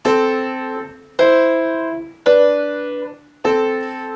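Four piano double notes from the right-hand part of Für Elise played one after another at a steady pace, each struck clearly and left to ring and fade before the next.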